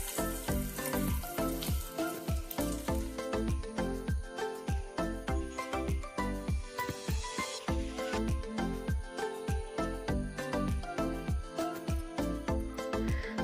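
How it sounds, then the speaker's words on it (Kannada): Boiled eggs fry in a pan over a medium flame, a steady crackling sizzle with rapid popping spatters, close up. Bright rhythmic music plays over the sizzle throughout. "ಮಧ್ಯಮ ಉರಿಯಲ್ಲಿಟ್ಟು 1-2 ನಿಮಿಷ ಚೆನ್ನಾಗಿ ಫ್ರೈ ಮಾಡಿಕೊಳ್ಬೇಕು"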